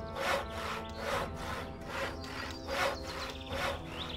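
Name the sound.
character sawing wood in a video game, Gothic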